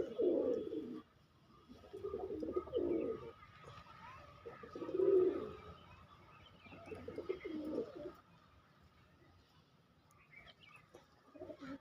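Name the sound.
pigeons cooing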